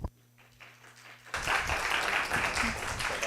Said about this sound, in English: everyone please, a round of applause for Robin Siegel